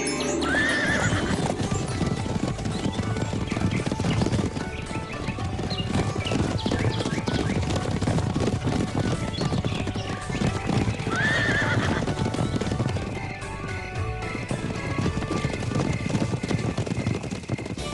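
Horses clip-clop steadily and loudly across the whole stretch, with two shrill neighs rising over the hoofbeats.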